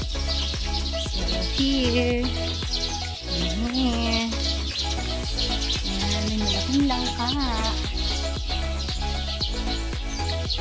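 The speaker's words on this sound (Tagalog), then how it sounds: "Sarap pakinggan yung huni ng ibon." Birds chirp and tweet steadily in the background at a farm while a person talks over them nearby.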